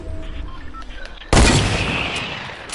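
In a Fortnite match, a sudden loud hand cannon blast booms out after a quiet stretch and rings off with a long, decaying broadband roar.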